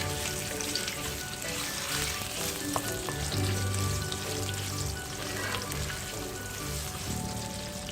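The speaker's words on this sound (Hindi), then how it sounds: "अब इसमें डालें मैरिनेट किया हुआ चिकन जो हमने कॉर्नफ्लोर के साथ मैरिनेट किया था। इसको अच्छी तरह से स्टर फ्राई करें।" Cornflour-marinated chicken stir-fries in a hot pan for Singaporean rice, giving a steady loud sizzle with occasional scraping stirs and light clinks, close up and with no voices.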